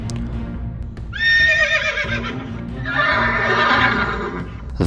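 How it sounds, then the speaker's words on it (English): A horse squeals with two loud, drawn-out shrill whinnies close by, the second louder and rougher, over a low rumbling background. "I heard the crackle and fire in the sandpits, and the sudden squeal of a horse that was as suddenly stilled"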